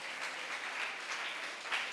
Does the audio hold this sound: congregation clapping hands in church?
yes